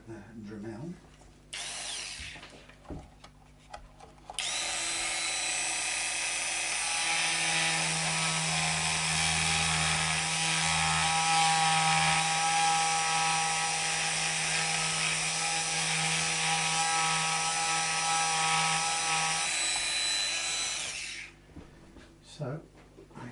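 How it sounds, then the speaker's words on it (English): A Dremel rotary tool grinds plastic away from a guitar body, a high, steady whine that starts abruptly, holds for roughly seventeen seconds with slight pitch shifts, then stops, with quieter handling sounds on either side. "I'm going to use the Dremel."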